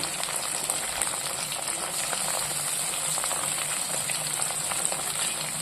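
Curry leaves, hing and crushed garlic fry in hot oil for a tempering, a continuous close crackling sizzle with a steady hiss throughout and no voices.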